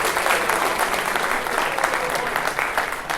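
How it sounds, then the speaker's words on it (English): A leadership-event audience gives a big round of applause for Lieutenant Wayne McGee, continuous dense clapping at close range that holds steady throughout. "let's give him a big round of applause to start"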